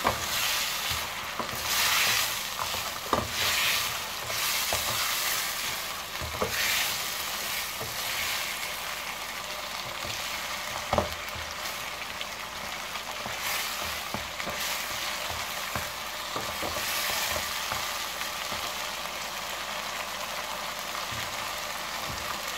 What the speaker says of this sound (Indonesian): Ini kita tumis sampai bumbunya meresap ke dalam kepiting.